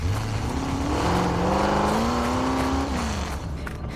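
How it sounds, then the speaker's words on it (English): A truck engine on a rural road, approaching with a loud, steady drone that climbs in pitch as it revs and nears, then eases slightly, filling the whole stretch without any voices. "Until the engine comes again."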